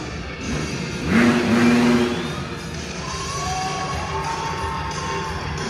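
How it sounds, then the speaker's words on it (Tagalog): Two motorcycle engines roar and rev inside a steel globe at Canada's Wonderland on Canada Day, swelling loudly for a second before settling into a steady mid-pitched drone, with a cheering crowd mixed in throughout. "How would you guys like to see 2 motorcycles at the same time?"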